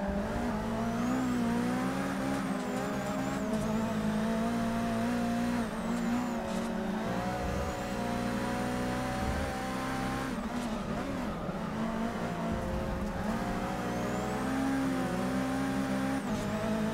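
Racing cars in Forza Motorsport 6 roar continuously at close range, with a steady engine drone that shifts pitch through gear changes and occasional tire squeal while the player's car chases a BMW ahead.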